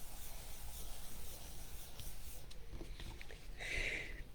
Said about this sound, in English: And then I just turn it over and I rub real good.